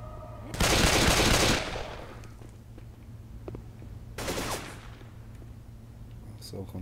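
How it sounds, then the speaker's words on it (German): Automatic gunfire from the video game Left 4 Dead 2 on Xbox 360, a loud sustained burst of about a second followed by a shorter, quieter burst a few seconds later over a steady game background hum. "Guter Schuss!"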